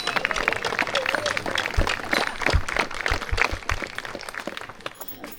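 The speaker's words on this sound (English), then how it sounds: "let's give them a round of applause" Audience applause for a sled dog team at a Denali sled dog show, a scattered crowd clapping outdoors with a few sharp claps standing out, fading toward the end.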